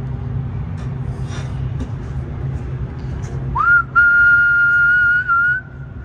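A person imitates a train whistle, a single sustained whistle rising quickly, then holding a steady pitch for about two seconds over a low rumbling background.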